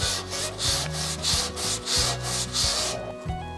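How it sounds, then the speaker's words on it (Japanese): Hand sanding of the corners of a wooden box joint, with steady back-and-forth rubbing strokes about twice a second, close and loud, then stopping near the end. "細かいところはやはり手での研磨が必要になってきます"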